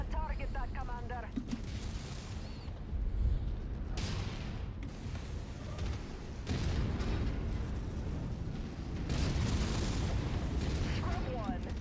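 Mech combat in MechWarrior 5 brings booming weapon fire and impacts that rumble continuously through the battle, with a radio-style voice calling out and chattering over the din.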